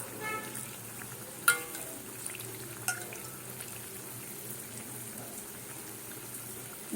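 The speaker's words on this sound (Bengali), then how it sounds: "ওই যে দেখছো টকবক টকবক করে ফুটছে" Dhakai paratha frying in hot oil gives a faint, continuous bubbling sizzle, with a couple of sharp clinks near the start and no speech.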